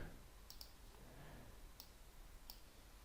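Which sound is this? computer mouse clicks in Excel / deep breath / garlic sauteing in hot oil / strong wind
computer mouse clicks in Excel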